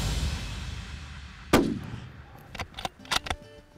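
A single sharp rifle shot cracks out during a free-range red stag hunt in Patagonia, close and loud against quiet outdoor ambience, then trails off into a decaying rumble with a few faint rustles afterward.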